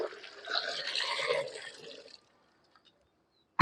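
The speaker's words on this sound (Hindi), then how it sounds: "इसके अंदर हम पानी अब डाल लेते हैं।" Water is poured into a bucket holding a softened lime (calcium) mixture, a bubbling splash lasting about two seconds before falling silent, then a brief knock at the very end.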